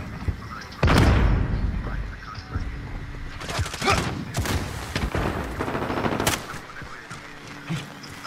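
Gunfire in a Call of Duty Modern Warfare hardcore Domination match: a heavy close shot or blast, then bursts of automatic fire and scattered single shots, loud and chaotic, with game voice callouts mixed in.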